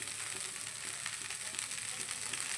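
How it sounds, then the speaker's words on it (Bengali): Rice fries in a wok with a steady, close hiss of sizzling oil that holds an even level throughout, with no voices. "ভাতটা একটু ভাজা হবে"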